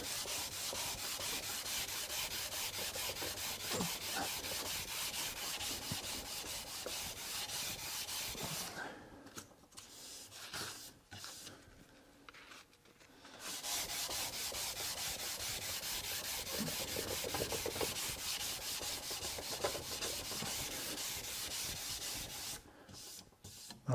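Sandpaper rubs steadily over a wooden console table part, a continuous dry scratching that runs loud and close, pauses briefly for a grit change, then resumes at full strength.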